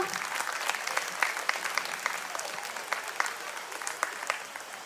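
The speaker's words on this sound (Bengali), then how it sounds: "একটা জোরে হাততালি হয়ে যাক সবারই জন্য।" A live audience applauds the performers at the close of a stage play: steady, dense clapping from a sizeable crowd, held at an even level for several seconds with faint voices mixed into it.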